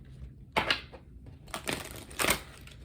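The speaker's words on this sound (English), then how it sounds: "Let's do some shuffling and pull from the Queen of the Moon" Queen of the Moon oracle cards being shuffled by hand, two soft bursts of riffling and card slaps in a quiet room, close and fairly faint.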